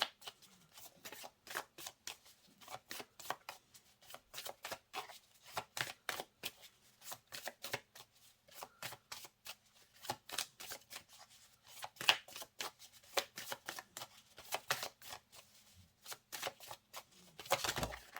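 Oracle cards are shuffled by hand in a long run of quick, crisp riffling bursts. The flurries of papery slaps and flicks come close and fairly quiet, with brief pauses between them and no talk.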